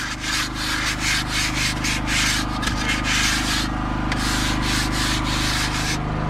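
Abrasive rubbing float smoothing freshly cut openings in a house wall under construction, giving a continuous loud, close rasping scrub in steady back-and-forth strokes without speech.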